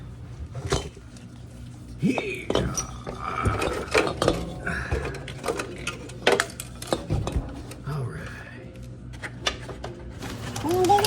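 Clanks, taps and metallic knocks as an Embraco EMD 55 compressor is worked loose from a Whirlpool refrigerator, irregular tool and metal contacts with a person talking quietly in between.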